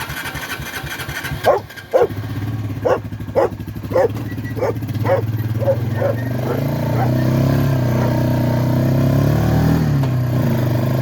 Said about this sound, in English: And this dog wants to go for a ride on it.